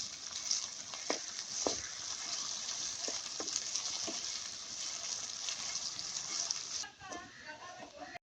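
Onions frying in a pan with a paste of crushed green chili, ginger and garlic give a steady, fairly faint sizzle, with occasional clinks and stirring scrapes.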